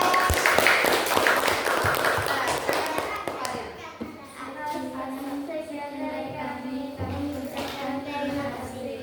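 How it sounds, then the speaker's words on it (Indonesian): A school class claps for a student group, a dense burst of applause lasting a few seconds before it gives way to children and an adult talking in the room. "Tepuk tangan untuk kelompok 3"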